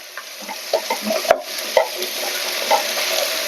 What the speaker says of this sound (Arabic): هسه نجي نضيف البطاطا ايضا نحمسها وياهم